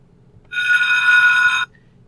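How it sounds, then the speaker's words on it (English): A school bell rings as a single continuous electric ring of about one second, bright and loud, starting and stopping abruptly in near silence. "if you need a sound effect, like a school bell ringing"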